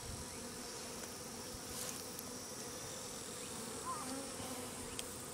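A swarm of Japanese honey bees (Apis cerana japonica) buzzes in a soft, continuous hum, with a few individual insects flitting close by.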